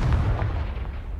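Confringo spell blast in Hogwarts Legacy, a single short booming burst with a heavy low-end thud that quickly fades.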